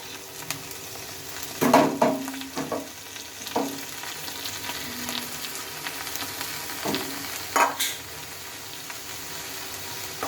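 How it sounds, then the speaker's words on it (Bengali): Raw drumstick greens tossed into a frying pan crackle and sizzle, with several loud clattering stirs against the pan at irregular intervals over a constant close frying hiss; no one speaks. "শাকটা আমি দিয়ে নিলাম এবার ভালোভাবে একটু একটু নেড়ে চেড়ে নিতে হবে"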